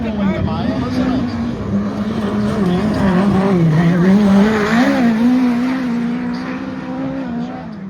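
A midget race car laps Ruapuna Speedway, its engine holding a loud, steady drone close by with a wavering pitch through the corners, while commentators talk over it.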